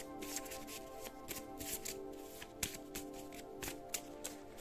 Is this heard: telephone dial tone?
no